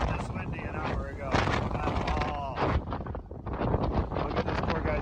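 Fierce wind on Mount Rainier buffeting the microphone in heavy, roaring gusts, loud and close, with a voice speaking partly under it.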